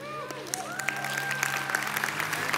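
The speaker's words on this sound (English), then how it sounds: "Some of you are clapping and some of you are like, I guess I should." Applause from a church audience at a spring break mission trip gathering, a steady wash of clapping that runs throughout, with a voice talking over it.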